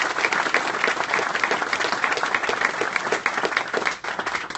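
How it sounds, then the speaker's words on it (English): Audience applause at a hospital NICU ribbon-cutting ceremony, dense sustained clapping from a sizeable crowd that runs loud and unbroken for several seconds. "please give them a round of applause for believing and doing what they do"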